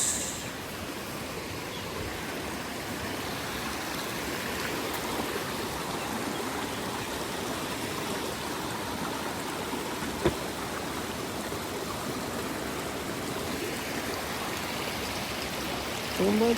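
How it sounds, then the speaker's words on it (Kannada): A stream of fresh, cold water flows through an outdoor spot. It makes a continuous, even rushing hiss at moderate level, with no one speaking. "ಫ್ರೆಶ್ ನೀರು ಬರ್ತಿದೆ."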